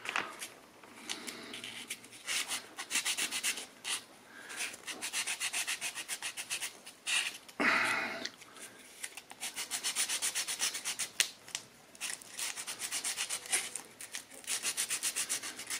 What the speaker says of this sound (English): Give it a good old sand.